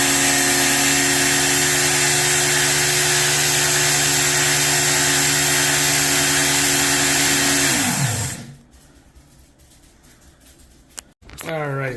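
A Work Sharp MK.2 belt knife sharpener runs loud and steady with a constant motor whine, then spins down and falls quiet, followed by brief handling clicks and the motor starting again at the end.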